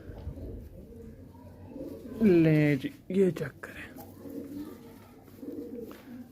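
A baby pigeon coos in a short, loud burst of throaty warbling near the microphone, followed by a softer coo, while someone talks before and after.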